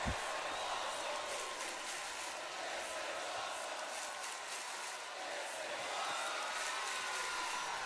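Virtual wrestling arena crowd in WWE2K24, a continuous roar of cheering and whooping from a large audience that stays loud and even throughout.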